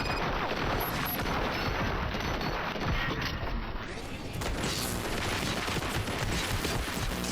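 Dense, sustained gunfire from a firefight in RoboCop: Rogue City, with rapid overlapping shots and crashes going on loudly without a break under a steady wash of combat noise.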